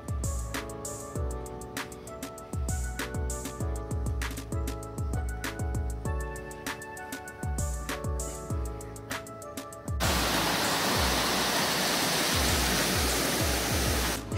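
Clear spring-fed canal water flowing through Shirakawa-go village in Japan, a steady, close rushing wash that takes over after about ten seconds of plucked string music.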